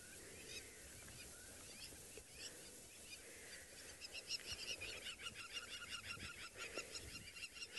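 Harsh, repeated bird calls and honking cries from several birds, growing denser and louder in the second half, over an outdoor background with no talking.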